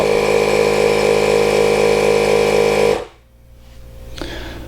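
Tire inflator running loudly and steadily for about three seconds while pumping up a lawn mower tire, then cutting off abruptly, followed by a faint hiss and a small click.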